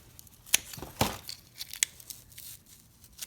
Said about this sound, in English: cut the leaf off maybe like right here